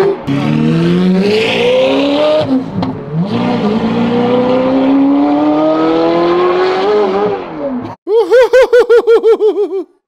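A rebuilt, once-wrecked Ferrari's engine revs loudly and steadily for about eight seconds with rising pitch, then gives a series of sharp, rhythmic throttle blips near the end.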